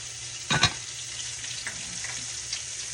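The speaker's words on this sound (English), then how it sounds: "When you're deep fat frying, you don't have to flip much." Appetizers bubble and sizzle gently in deep fat, a soft steady frying hiss close by, with a brief clatter near the start and faint stirring sounds afterward.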